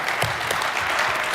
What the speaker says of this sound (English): Another big round of applause for Royster Production.